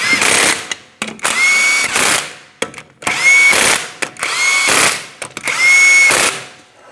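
A power tool drives 21mm lug nuts onto a Ford Transit 250 front wheel in loud, close bursts, five or six whirring runs with brief pauses and ratcheting chatter between them.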